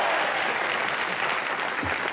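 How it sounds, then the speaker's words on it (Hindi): Studio audience applauding on a Hindi comedy talk show, a steady dense wash of clapping that holds at even loudness for the whole stretch, close and full, with no talk over it. "जोरदार तालियां ठोको"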